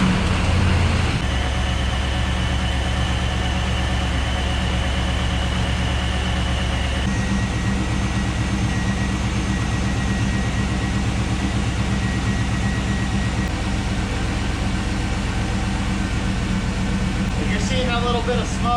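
Pontiac Firebird engine running steadily with a low, continuous drone and a faint whine, the pitch shifting slightly partway through as it is run through the gears, with a brief rattle near the end.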